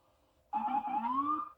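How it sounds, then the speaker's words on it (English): A siren starts abruptly after a quiet moment and rises steadily in pitch, a loud wailing tone with a low rumble underneath. "Lights and sirens."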